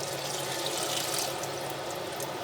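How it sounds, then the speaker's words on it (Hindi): Water is poured steadily into a cooking pan to make gravy for spiced black chickpeas, giving a continuous, close splashing rush with no talk. "ग्रेवी के लिए हम पानी डालेंगे।"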